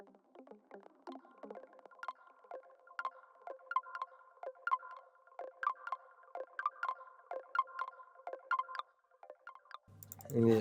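Percussive samples from a Moog DFAM drum synthesizer sent through a pitch-shifting delay: a quiet, busy stream of clicky, ticking blips whose echoes repeat and smear in an uneven rhythm, cut off by a sudden louder burst at the end.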